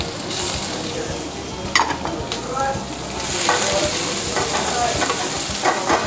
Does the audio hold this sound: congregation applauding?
no